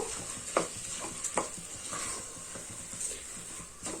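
Rice being mixed with masala in a pot for egg biryani, giving a soft steady sizzle under a few crisp spoon scrapes and taps against the vessel, with no talk.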